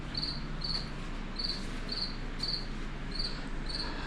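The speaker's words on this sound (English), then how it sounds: "I don't know if that's the same cricket" A cricket chirping indoors near a door, sharp repeated trills in an even rhythm against a quiet room hum, fairly close and with no talking.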